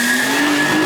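Nissan Skyline R33 with a swapped RB25DET engine running smoothly, a steady near hum with a sustained tonal whine and no misfire, heard alone without talk.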